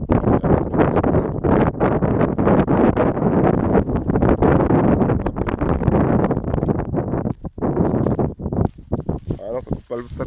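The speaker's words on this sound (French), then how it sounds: "il y a beaucoup de vent" Loud wind buffets the microphone in dense, continuous gusts, with a brief lull near the end and no speech.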